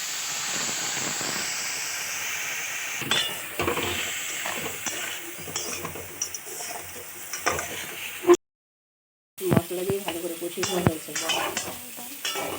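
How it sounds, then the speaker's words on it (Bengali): Cumin and chili paste sautéing with pointed gourd in a mustard vegetarian dish, with a steady sizzle and hiss broken by repeated scraping stirs and a brief drop to silence. "মশলা দিয়ে ভালোভাবে কষিয়ে নেওয়া হয়েছে"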